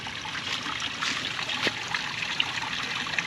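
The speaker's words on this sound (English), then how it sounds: "I hear water. Oh, that's pretty." Gentle trickling water murmurs steadily in the background at Kanapaha Botanical Gardens in Gainesville, Florida, soft and close, with faint splashes and no voices.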